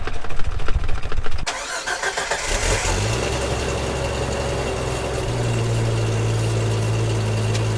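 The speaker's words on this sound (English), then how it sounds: "Let's get a start up on the Wrangler." A 1993 Jeep Wrangler YJ with a 4-liter straight-six and five-speed manual cranks briefly, catches and settles into a loud, steady idle close by, with no talking.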